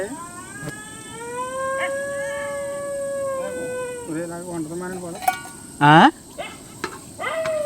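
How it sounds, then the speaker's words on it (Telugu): Jackals howl at night, drawn-out howls rising and wavering, several animals joining in with yips and a sharp louder cry near the end; a voice is faintly present underneath. "నక్కలే నక్కలే వస్తున్నాయి"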